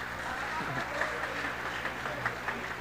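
Audience clapping at an academic forum, a steady patter of hands with a few louder claps standing out, while voices carry on underneath.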